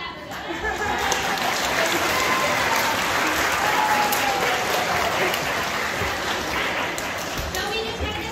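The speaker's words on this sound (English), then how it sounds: "You guys should clap for them." A school spring concert audience claps for a beginner band in a long, loud, sustained round of applause lasting over eight seconds, with crowd chatter mixed beneath the dense clapping.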